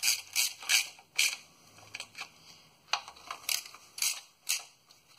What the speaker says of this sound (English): So I'm just using my ratchet like this.